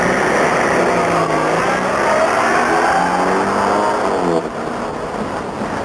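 A truck drives steadily along a road, its engine a loud, continuous rumble with a broad wash of road and wind noise that eases slightly near the end.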